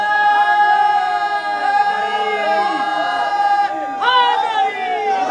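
An audience at a Shia majlis gathering chants religious slogans together: loud, sustained massed voices with rising and falling pitch, many voices layered into one continuous close chant.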